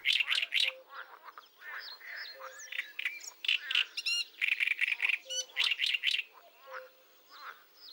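Lively, varied bird song from lake reeds in a marsh in May, rapid chirps, trills and harsh notes, continuous and fairly close, rising and falling in bursts without pause.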